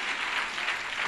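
A church congregation applauding the Lord, a steady bright wash of clapping hands that holds evenly from start to finish with no pauses.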